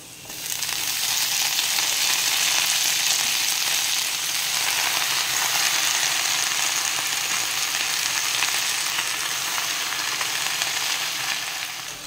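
Pipul greens added to fried potatoes with salt and turmeric crackle in a pan, a steady loud sizzle running without a break and a few faint scrapes of stirring, with no voice present.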